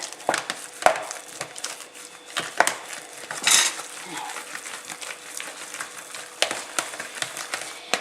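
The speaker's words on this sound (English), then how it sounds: "putting some margarine in, or butter, and a dash of milk, and mixing that through" A spoon scrapes and clinks against a pot as margarine, or butter, and a splash of milk are mixed into mashed potatoes, a steady run of close, soft taps and knocks.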